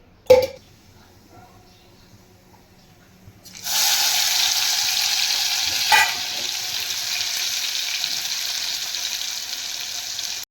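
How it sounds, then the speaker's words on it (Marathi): Ginger, garlic and fire-roasted coconut sizzle loudly in hot oil after a quiet start with a brief clatter, the steady frying hiss filling the rest with a sharper burst of stirring midway. "आता तेल टाकून परतवून घेणार"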